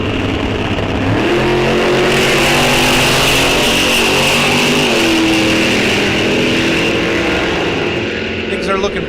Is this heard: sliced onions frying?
no